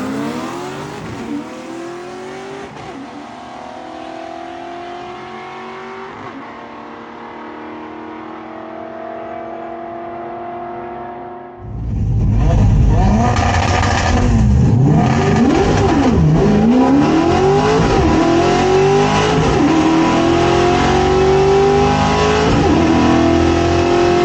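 A 1968 Ford Torino drag car on a two-step at 6100 rpm, tires at 12 psi, idles and burbles, then launches hard with a loud roar that climbs through power shifts, the pitch dropping and rising again at each gear change.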